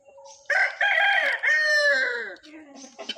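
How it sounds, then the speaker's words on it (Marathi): A rooster crows loudly and close, one long drawn-out call that rises and trails off, followed by a brief softer cluck, while betel nuts are peeled with a machine. "कोंबड्यांनी बॅकग्राऊंड म्युझिक टाकलेली आहे"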